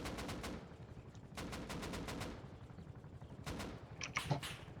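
Rapid bursts of automatic gunfire in a video game helicopter fight, three long volleys of quick shots, loud and close, with a couple of sharper impacts near the end.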